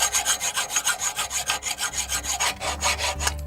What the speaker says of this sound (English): the only way to get it off is to use a hacksaw